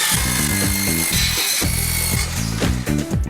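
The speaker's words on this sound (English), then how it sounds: "we're going to cut the ply into 2 pieces in a parallelogram shape" A power tool cuts through scrap plywood with a loud, continuous buzzing whine that pulses with a rough rhythm as the blade works through the wood.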